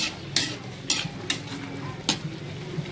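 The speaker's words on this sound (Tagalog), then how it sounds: "Ihalo na natin guys kasi nakuluan naman ha." A spoon stirs cooked, boiled chayote vegetables in a pot, giving several sharp scraping clinks against the metal at irregular intervals over a soft low simmer.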